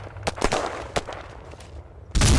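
Gunfire from across the road in the war game Battlerush 2 comes as several sharp, separated cracks at mid distance, followed by a louder burst at the end.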